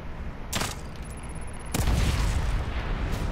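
Explosions in the video game The Evil Within 2, two sharp blasts a second apart, the second followed by a heavy rumbling roar that lingers loudly to the end.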